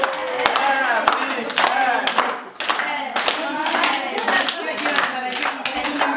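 Dense hand clapping from guests at a birthday celebration, continuous and close with a brief dip midway, voices faintly underneath.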